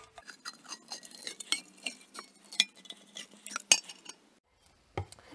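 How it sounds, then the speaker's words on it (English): A can opener cutting the top lid off a metal soup can: a close series of irregular metallic clicks and scrapes as the opener works around the rim, ending in a brief pause and a final clunk. "Now I'm going to do this using a can opener by just cutting out the top lid."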